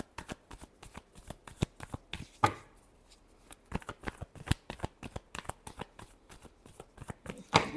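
Tarot cards riffled and shuffled by hand, a rapid run of crisp flapping clicks with a brief pause, then more bursts, close and clear with no talking.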